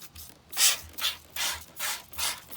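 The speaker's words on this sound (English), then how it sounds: "we're just going to do some wet sanding" Wet sandpaper, wetted with soapy water, rubs back and forth over a car hood vent in steady strokes, about five rhythmic swishing passes, close up and fairly loud with no talking.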